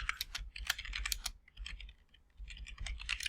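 Fingers type on a computer keyboard in quick, uneven bursts of crisp key clicks, close and fairly quiet. A short pause falls in the middle before the typing resumes.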